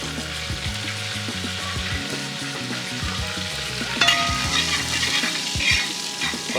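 Fennel seeds and curry leaves fry in oil in a pan with a steady, busy sizzle and crackle, stirred at close range and louder toward the end.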